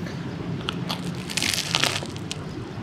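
Bite into a crunchy Saigon banh mi with pâté and cold cuts, giving a brief crackling crunch that peaks midway and stands alone over low room noise.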